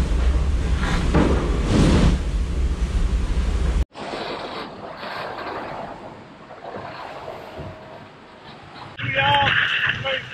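Blustery wind buffets a racing catamaran at sea as ocean waves surge and wash past, loud and continuous, with a voice talking over the noise in the first part.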